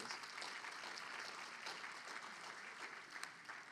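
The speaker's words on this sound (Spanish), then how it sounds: "Dale una ofrenda de palmas al Rey de Reyes." Church congregation applauding steadily, a sustained wash of clapping that holds at an even level from start to finish, with no voices rising above it.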